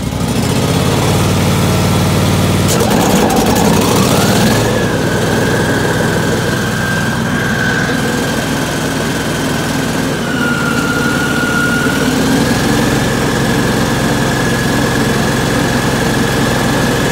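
A John Deere LX277 lawn tractor engine idles steadily after a cold start in January, a loud, close, constant drone whose pitch rises a few seconds in and then holds with slight wavering, no voices over it.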